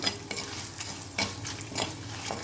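Asafoetida powder with Kashmiri chilli and turmeric sautés in a pan for a lemon curry, a close, soft sizzle layered with repeated scraping strokes of a spoon stirring in a loose rhythm.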